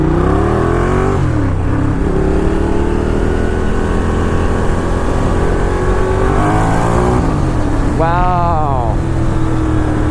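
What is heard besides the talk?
Ducati Diavel cruiser motorcycle accelerating hard in second gear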